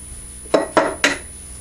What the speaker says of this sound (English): So let's get started with cracking some eggs here.